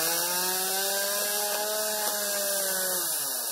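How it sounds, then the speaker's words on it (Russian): A chainsaw runs at steady high revs, cutting trees along the Noksa river, a loud continuous buzzing drone with slight pitch dips as it bites into wood. "Треск деревьев и шум бензопилы нарушили тишину реки Нокса."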